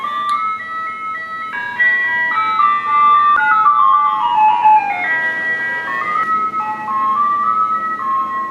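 An ice cream truck plays its melodic jingle loudly and continuously, a bright looping tune with shifting notes over a faint motor hum, close by and with no speech.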